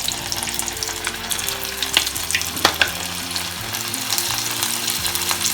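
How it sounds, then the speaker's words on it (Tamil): Chicken coated in a spice powder fries in hot oil, giving a continuous crackling sizzle with scattered pops and occasional stirring clinks, close up and without speech. "ஆயிலில் போட்டு பொரிக்கிறோம்."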